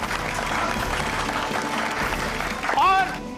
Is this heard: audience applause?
yes